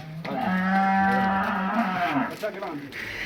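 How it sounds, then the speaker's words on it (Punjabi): A Cholistani cross cow in Pakistan gives one long, loud, close moo lasting nearly two seconds, which trails off into quiet farmyard background. "ਇਹ ਵਿੱਚ ਖੜੀ ਇੱਕ ਗਾਂ ਜਨਾਬ ਆ ਕਰਮਾਂ ਵਾਲੀ।"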